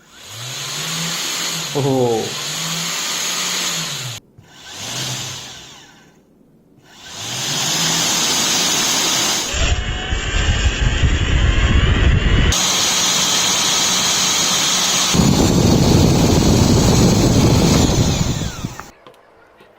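A vacuum cleaner motor being repurposed as a DC motor project spins up repeatedly, producing loud whining and roaring bursts with rising pitch, stops and restarts; one brief spoken exclamation.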